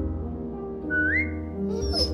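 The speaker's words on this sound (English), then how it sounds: "Now whistle and tell her to lie down." Whistling to Rosie the dog in The Walking Dead game, a single rising whistle over a low background drone, followed by a brief, higher whistle-like sound near the end.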